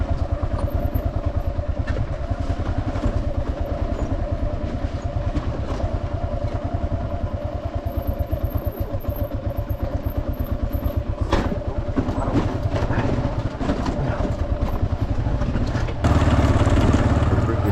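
A motorbike engine labours up a steep, rocky uphill trail, droning loudly and continuously with a rough, pulsing chug, close to the microphone, its revs surging near the end over faint clatter of stones.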